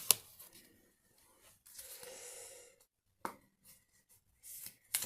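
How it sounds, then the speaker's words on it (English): Oracle cards being dealt into three piles and gathered up again, a few short close taps and shuffling slides separated by quiet gaps. "put them in 3 piles and pick them up again"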